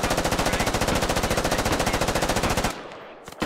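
Rapid automatic gunfire in the military shooter game Squad, a dense, loud, evenly paced burst of shots lasting over two seconds before cutting off to a fading tail, with no talking.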